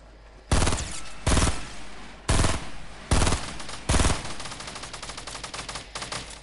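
Loud bursts of gunfire from a video game, five sharp shots or short volleys spaced irregularly, then a faster rattling run of lighter shots trailing off at the end.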